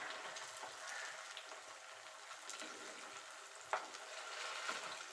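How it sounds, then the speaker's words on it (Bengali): Flattened rice rasbora fritters shallow-frying in a little oil, giving a steady soft sizzle with faint crackles and a brief louder spatter near the end, no talking. "কম তেলে ভাজছি।"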